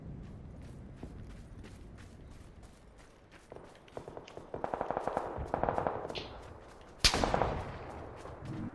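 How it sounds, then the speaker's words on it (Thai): Gunfire in PUBG, with a player being shot from behind: rapid automatic bursts start faint and swell louder, then a sharp, close crack and further shots follow. "ฮ้ยโดนโดนยิงจากข้างหลังครับ"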